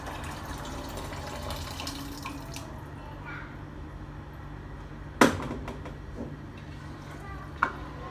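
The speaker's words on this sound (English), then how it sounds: "So we'll be adding the rest of the water." Water is poured into a pot of rice for bagara chawal, a steady trickling splash with a couple of sharp clinks near the end, close and moderate in level.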